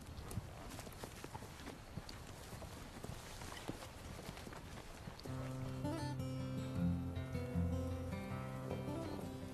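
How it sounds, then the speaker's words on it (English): Horse hooves clip-clopping on a ride: a scattered, irregular series of faint hoof knocks, then music swells in and plays over the hoofbeats for the rest. "Come on, let's go for a horse ride."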